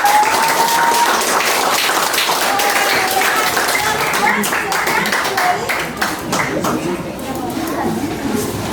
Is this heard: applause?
yes